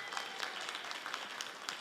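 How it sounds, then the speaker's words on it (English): A crowd at a Move to Amend gathering in Albuquerque claps steadily in a dense, continuous patter of many hands, moderately distant and fairly soft throughout, with no talking over it. "Let's give Tom and the Central New Mexico group a round of applause"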